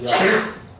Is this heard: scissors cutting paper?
no